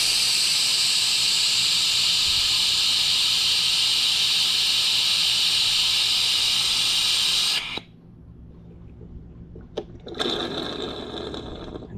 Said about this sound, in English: Let's see if I can show you guys this pump in action.